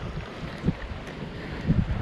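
Strong wind buffets the microphone in a constant roar at a fishing spot with rolling waves, with low gusty thumps and a hint of water beneath.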